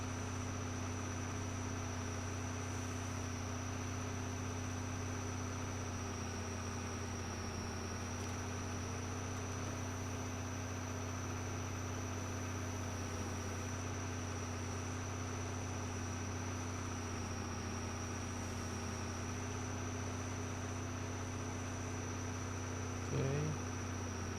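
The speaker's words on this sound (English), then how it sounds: "the tractor barely keeping up with the horsepower requirement" A tractor engine in the Farming Simulator 22 video game, straining to meet its horsepower demand, drones as a steady, even hum that stays at the same level throughout, with no talk.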